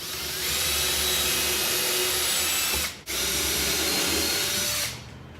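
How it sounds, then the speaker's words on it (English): A power drill whirs steadily boring pilot holes into wood, stops briefly, then runs again before winding down. "we'll start with some pilot holes here"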